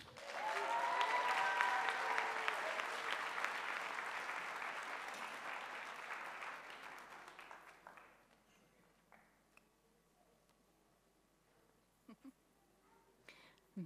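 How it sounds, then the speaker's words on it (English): Warm applause fills a high school graduation ceremony hall for about eight seconds, then fades to near quiet with a few scattered claps and small noises. "I'm sitting back here clapping, slacking on my job"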